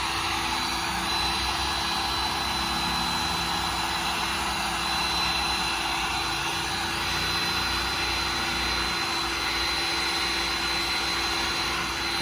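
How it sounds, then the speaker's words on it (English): Heat gun blowing over an epoxy resin cutting board, a steady, loud, close airy roar with an even whine running unbroken throughout. "And then we take our heat gun."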